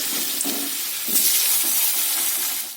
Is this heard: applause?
no